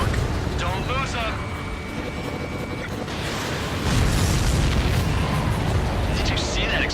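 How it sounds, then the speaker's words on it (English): Explosion of an enemy supply ship during a mission in the Ace Combat 7 combat flight game, a broad rumbling boom swelling over continuous jet and engine roar, with radio voices talking over the noise. "Did you see that explosion? Looks like that's one of them down."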